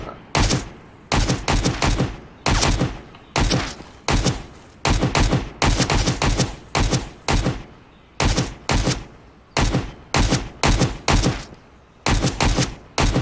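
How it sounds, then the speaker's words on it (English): Gunfire rings out in the survival shooter Road to Vostok, with repeated loud bursts of rapid shots, each volley separated by short pauses, sounding steady and close throughout. "Oh, where are the shots coming from?"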